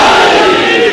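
A large crowd at a religious majlis gathering shouts a slogan in unison, a loud, close roar of many voices that swells and then fades slightly at the end.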